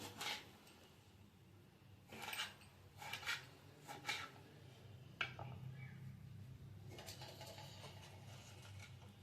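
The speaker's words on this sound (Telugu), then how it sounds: "చిన్నగానే కోసుకుందాం." A knife chopping vegetables into small pieces for pappu charu, faint irregular taps and scrapes on a cutting board, spaced in short bursts and then a quicker run of cuts.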